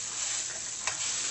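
Oatmeal pancakes pressed down in a hot pan give off a brief, steady sizzle and crackle, close and fairly quiet.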